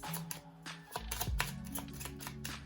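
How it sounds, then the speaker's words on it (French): Tarot cards are shuffled by hand in a quick run of crisp, irregular clicks and light rustles, close up and steady throughout. "Donc on va bien mélanger les cartes."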